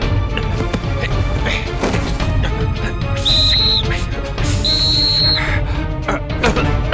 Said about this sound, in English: That's it! The whistle!